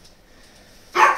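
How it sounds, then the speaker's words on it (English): A single short, loud dog bark bursts out near the end after quiet room tone, close to the microphone. "you're barking again"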